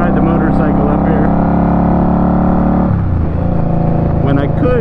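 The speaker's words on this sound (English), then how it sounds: "I figured it'd be the perfect opportunity for me to ride the motorcycle up here" An Indian Scout Bobber motorcycle engine drones loudly and steadily while riding, its deep rumbling tone dropping and shifting as the rider changes speed near the end, with a voice faintly over it.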